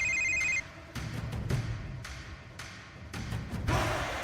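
A telephone rings with a short electronic trill at the start, followed by quiet thumps and handling noise.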